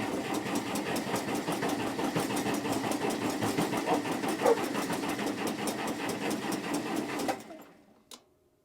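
A Case 430 tractor engine cranks over on its starter in a fast, even chugging rhythm for about seven seconds without firing, then stops, leaving a faint click.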